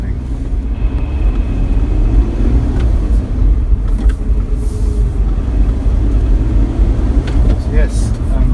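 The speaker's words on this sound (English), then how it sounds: "Time for some driving." Car engine rumble while driving on forged wheels, a steady low drone from inside the cabin that stays loud and continuous throughout, with faint speech-like sounds in the background.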